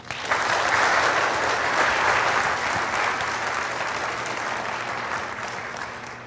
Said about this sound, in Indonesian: Tepuk tangan yang ikhlas semuanya.